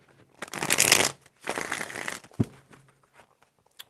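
Tarot cards shuffled by hand close up, two loud riffling bursts followed by a sharp tap and softer handling clicks trailing into quiet.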